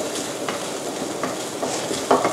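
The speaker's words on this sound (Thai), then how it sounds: "แล้วเราก็คั่วผัดไปนะคะให้แห้งนะคะ" Chili powder stir-fried dry in a pan for Thai jaew bong chili paste, giving a steady soft sizzle with a few faint scrapes of a spatula against the pan, no talking.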